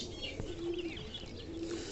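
Soft, low pigeon coos repeat twice inside a fancy pigeon loft kept for breeds such as fantails and kings, with faint chirps and light rustling in the background.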